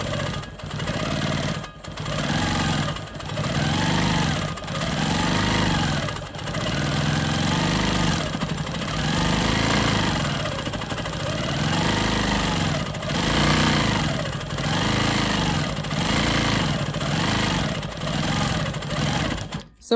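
A Quilt Maker Pro 20 quilting machine stitches smoky swirls with a steady, loud motor whir and rapid needle chatter, rising and falling in pitch in smooth arcs as the speed changes, continuous with brief dips.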